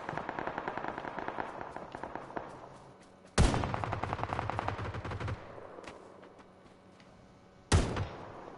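Sniper rifle fire in PUBG: two sharp, loud shots several seconds apart stand out over a steady background of game noise and distant rattling gunfire.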